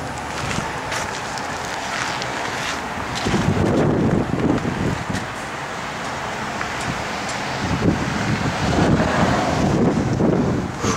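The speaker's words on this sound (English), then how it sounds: "When that wind blows, guys, that is rough." Strong wind gusts outdoors around a 1951 Chevrolet 3100 pickup, roaring and buffeting the microphone in a continuous rush that swells and eases, with no voices.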